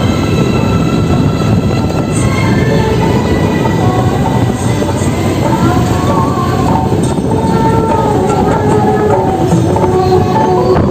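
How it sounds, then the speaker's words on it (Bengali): A train rumbles loudly and continuously through Medinipur railway station, a dense steady roar of wheels and carriages with faint metallic clinks and squeals on top. "এটা আমাদের স্টেশন, মেদিনীপুর স্টেশন।"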